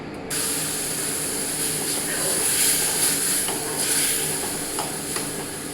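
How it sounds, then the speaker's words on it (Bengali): Water poured into hot fried semolina in a pan, giving a loud, sudden hiss and spray-like sizzle that holds steadily for several seconds, close up with no talking. "এরপর আমি আন্দাজ মতন জল দিচ্ছি"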